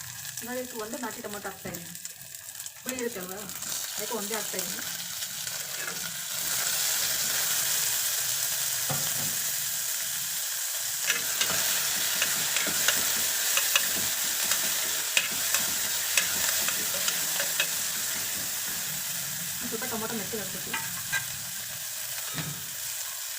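Green chillies added to a hot pan and frying with a steady hiss that grows louder partway through, with occasional spatula clinks and stirring strokes; brief voices murmur in the background near the start and end.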